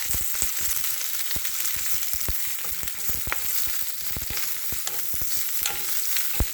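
Loud sizzling and crackling from a hot pan as vegetables, including cabbage-like greens, are flash stir-fried, with irregular scraping and tossing sounds as food is stirred, close up and without talk.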